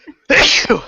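A single loud, sharp sneeze close to the microphone, with a short voice just before it.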